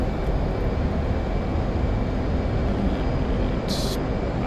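An F/A-18 Hornet jet in a flight simulator gives off a steady, loud engine roar with a broad rumble during takeoff, continuous and unchanging for a few seconds, with one brief higher hiss near the end.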